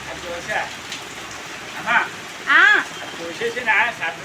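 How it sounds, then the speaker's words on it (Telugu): Heavy morning rain falls steadily in Andhra Pradesh, a constant hiss heard close by. A voice talks briefly over it in short bursts. "అప్పటికి ఫుల్ వర్షం వస్తుంది"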